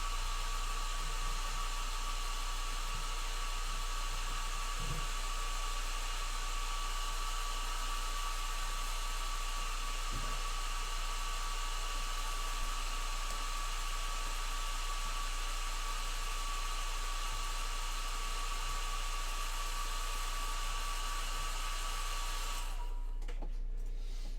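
A hair dryer blows with a steady whirring hum for a long stretch, close and constant, drying paint on a miniature, before cutting off near the end.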